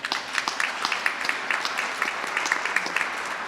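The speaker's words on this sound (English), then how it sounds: "Let's give him a round of applause." A room full of people at a community college press event applauds steadily, a dense patter of many hands clapping at moderate distance for several seconds without pause.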